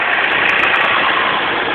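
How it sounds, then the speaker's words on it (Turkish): A tractor engine approaches in a small green Black Sea village in Samsun, a loud, steady mid-range chugging drone filling the moment alone. "Traktörle gelen birisi."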